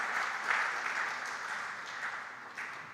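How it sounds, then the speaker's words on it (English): Audience applause at a school competition, soft and distant, a continuous wash of many hands clapping that holds steady for several seconds and slowly tapers off. "Can we give Samuel a round of applause?"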